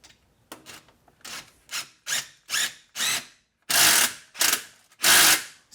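A pneumatic impact gun runs down transmission bolts on a 1999-2012 Porsche 911, firing in a string of short, sharp rattling bursts that grow longer and louder toward the end, with no talking.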